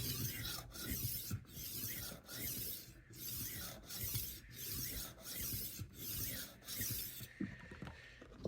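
Knife edge drawn across a rolling sharpener with a 1500 grit disc, about ten rhythmic rasping passes in a steady back-and-forth cadence, close and moderately loud, ending with a short softer scrape.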